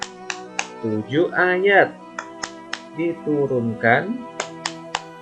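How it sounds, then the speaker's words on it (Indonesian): Rhythmic hand claps and finger snaps keep time with a children's sing-along chant of the Al-Fatihah lesson, sharp percussive hits spaced between and under the sung voice. "Nah, inilah tepuk Al-Fatihah ya"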